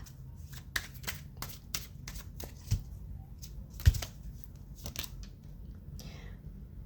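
A deck of tarot cards is shuffled behind the camera, making a steady run of crisp riffling and slapping bursts at close range, with a few sharper taps standing out.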